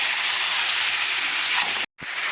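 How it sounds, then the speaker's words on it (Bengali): Chicken with spices sizzles hard in a pan over a high flame, a loud, continuous frying hiss that cuts out briefly near the end. "এখন আমি দু মিনিট হাই ফ্লেমে এগুলো কষাতে থাকছি"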